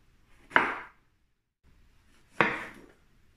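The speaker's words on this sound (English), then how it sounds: "you're going to take your garlic and you're just going to cut it in chunks" Two separate knife strokes through garlic cloves on a cutting board, each a sharp near thunk with a brief fading tail, about two seconds apart with quiet in between.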